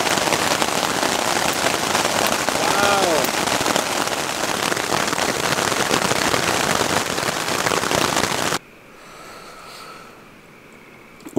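Dense hail and rain pelt surfaces outdoors during a storm at a backpacking fishing spot, a loud continuous crackling patter that stops abruptly, leaving a faint quiet background.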